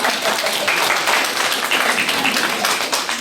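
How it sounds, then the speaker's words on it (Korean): Audience applause breaking out during a Catholic seminar talk, a dense, steady wash of many hands clapping that fills the whole stretch at an even level. "기적이야, 박수."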